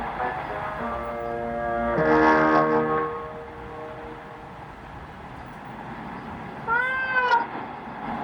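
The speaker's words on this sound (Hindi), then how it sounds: "उसे जब भूख लगती है तो मासूमियत से म्याऊं करती है।" A black cat meows twice, a long harmonic meow near the start and a shorter rising one near the end, fairly close over a low steady background hum.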